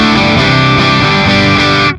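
Loud distorted electric guitar through an ENGL Cabloader IR pedal using a 4x12 cabinet with G12M25 Greenback speakers, playing a dense sustained riff for about two seconds, then cutting off.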